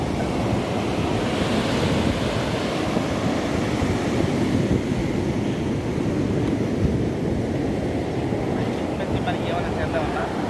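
Ocean waves break at a beach in a steady, loud roar of surf, blended with wind buffeting the microphone, with no clear pauses between swells.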